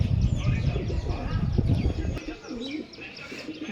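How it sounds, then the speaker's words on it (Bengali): A pet pigeon coos softly close by while someone talks over the first half, then the low throaty cooing continues faintly with small chirps after he stops. "এটা হচ্ছে সম্ভবত ফিমেল পায়রাটা"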